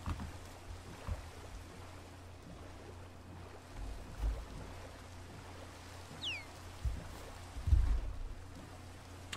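A low rumbling wash of water against a moving boat in a video game, steady and continuous with occasional louder swells, no voices.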